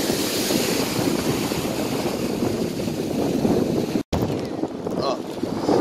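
Strong wind buffets the microphone in a constant roaring rush on a beach, near and loud, with a brief dropout before the gusting resumes.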